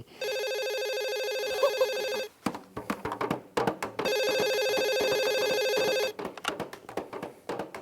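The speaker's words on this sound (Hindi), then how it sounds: "ओह, फोन।" A telephone rings in two long electronic trill bursts, loud and close, separated by a gap filled with tapping and clattering sounds, with no talking over it.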